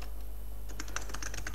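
Computer keyboard typed on in quick, irregular clicking bursts over a steady low hum, close and moderately quiet, no voices.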